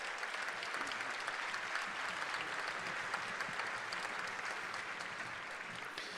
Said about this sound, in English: how about another round of applause for all of our finalists?